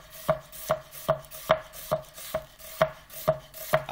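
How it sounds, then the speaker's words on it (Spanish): A knife slicing an onion into julienne on a cutting board, about a dozen crisp, evenly spaced cuts landing roughly twice per second, close and clear with no talking. "Inclinamos un poquito el cuchillo y realizamos los primeros cortes."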